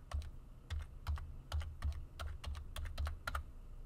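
Typing on a computer keyboard while entering a Remote Desktop PC name: quick bursts of close, light key clicks in an uneven rhythm, alone with no speech.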